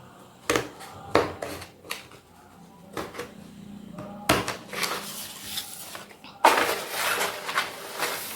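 Scissors snip through blouse fabric during tailoring, giving a handful of short, crisp cuts spaced unevenly, close and fairly quiet, with a longer run of cutting near the end.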